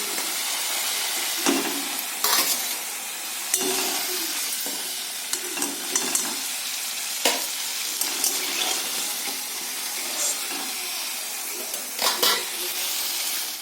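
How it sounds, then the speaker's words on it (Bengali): Pumpkin pieces fry in oil until reddish, giving a steady close sizzle broken by repeated scraping and stirring knocks from a utensil in the pan. "এবার আমি কুমড়োগুলোকে লাল লাল করে ভেজে নেব।"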